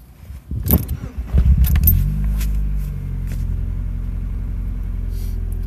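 A 2000 Mazda MX-5 Miata with a rough-running fault cranks and starts after a brief key jingle, then settles into a low, steady idle rumble, loud and close.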